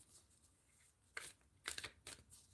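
Quiet riffling and soft slaps of tarot cards being shuffled by hand, a few brisk bursts close by against a faint background hiss.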